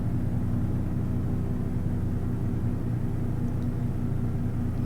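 A truck engine in American Truck Simulator drones with a steady, throaty low rumble, constant and fairly loud with no change in pitch and no voices.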